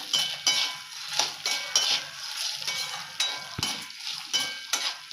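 A spatula scrapes and stirs through dry ingredients in a pan with rhythmic gritty strokes, fairly quiet with no voices.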